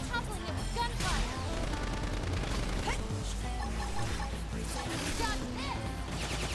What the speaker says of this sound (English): Try toppling it with gunfire.